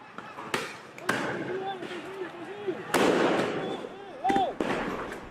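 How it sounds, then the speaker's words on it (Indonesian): Tear gas canisters fired by police during a riot at a street protest in Kwitang, Jakarta, sound as repeated sharp bangs and pops scattered through the scene, over a rumbling crowd with whistling shots and shouting voices nearby. "dari kepolisian menembakkan banyak sekali gas air mata"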